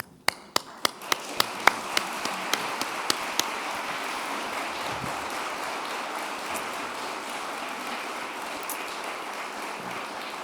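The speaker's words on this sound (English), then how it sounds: "why don't we clap for Mary Evelyn?" Audience applause after a lecture presentation, opening with a few sharp individual claps that quickly swell into a dense, sustained round of clapping from a crowd in a hall, holding steady and then gradually thinning.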